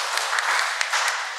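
A Catholic parish congregation gives a brief burst of applause during Sunday Mass, a dense patter of hands clapping filling the church.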